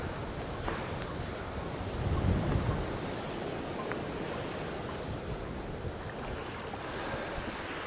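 Sea waves wash against the shore at Taman under steady wind buffeting the microphone, with one louder surge partway through.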